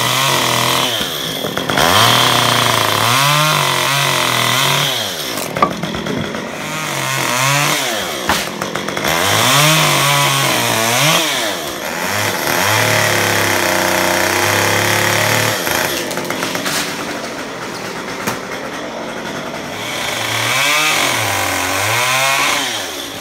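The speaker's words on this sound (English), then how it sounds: "So that's most of the structural work with the chainsaw." A chainsaw cuts pear tree branches, loud and close, its engine revving and bogging down in repeated pulses as it bites through wood, with brief idling lulls between cuts and no talking.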